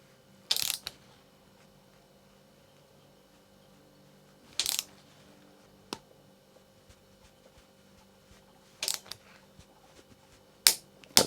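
A torque wrench tightens the derailleur hanger fastener on a Trek Rail e-bike, giving a few separate sharp metallic clicks and ratcheting snaps, spaced seconds apart against a quiet room.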